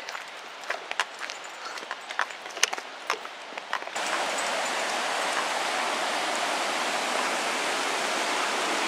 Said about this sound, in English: This is where the river goes down into the ocean.